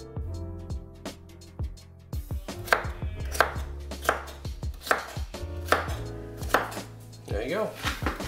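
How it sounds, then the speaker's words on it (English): Knife chopping peeled potatoes into cubes on a cutting board, a steady series of sharp close knocks spaced roughly every second, loud and clear with no speech. "And the potatoes are already peeled. And we're gonna cut it into cube slices."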